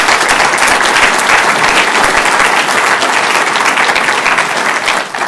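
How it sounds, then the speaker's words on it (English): A hall audience at a mayor's State of the City address breaks into sustained applause, loud and dense for about five seconds before it starts to thin near the end. "I think that deserves a round of applause."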